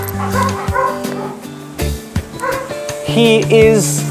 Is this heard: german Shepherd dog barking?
yes